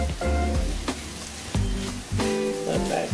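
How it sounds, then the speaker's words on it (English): Egg frying in rice on a hibachi-style griddle, a loud close sizzle with scraping and stirring clatters from a spatula, and no talking. "that egg be frying hard"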